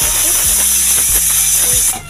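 A pressure cooker on a kitchen stove lets off a loud, steady steam whistle while rice cooks, a continuous high hiss over a rumbling low tone with faint rhythmic pulses, cutting off abruptly near the end.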